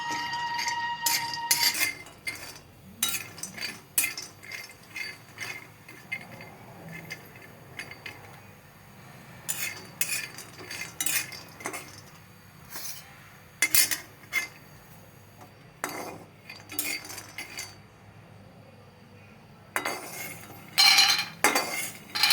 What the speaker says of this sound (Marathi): आणि आता आपल्याला बदाम थोडेसे भाजायचे